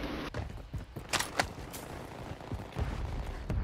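Call of Duty gunfire in a multiplayer match, scattered cracking shots and short bursts mixed with footsteps and movement noise, some near and sharp, others softer and farther away.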